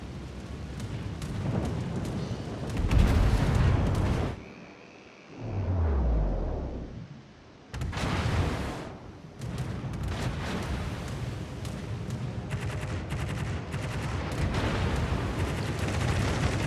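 Anti-aircraft guns blast in a naval battle video game as rapid bursts of gunfire and heavy booms, dense and loud, with brief lulls and a falling whistle between salvos.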